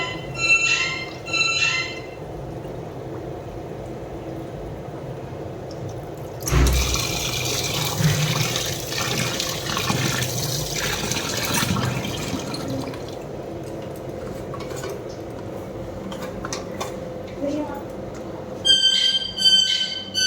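Water running from a kitchen tap into a bucket, a steady broadband rush lasting several seconds amid household clatter and background noise, with no talking.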